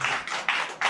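A small audience at a Black Cake baking competition claps in sparse, distinct bursts, roughly four close, crisp rounds of handclaps separated by short gaps.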